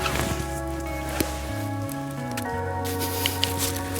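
Half a lemon squeezed by hand into solyanka soup and dropped in, giving soft wet squishing and a few small drips and taps over a steady background hum, close and fairly quiet.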